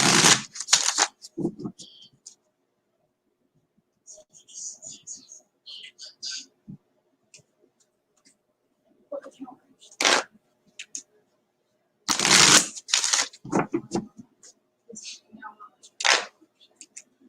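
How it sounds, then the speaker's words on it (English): Tarot cards being shuffled in short riffling bursts, crisp and close, separated by pauses and quiet murmuring. "I'm just going to shuffle"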